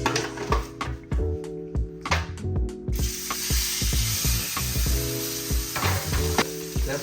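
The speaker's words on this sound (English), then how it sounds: "when you put the steak down. A nice sizzling sound. You want to hear it sear." A 2.5-inch Whole Foods steak searing in a hot skillet: bright, continuous sizzle that swells loudly after a few seconds, with a steady mechanical hum and clicking running underneath.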